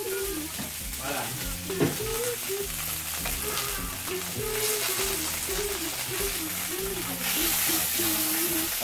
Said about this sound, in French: Je continue à faire frire la viande, les poivrons cuits, la tomate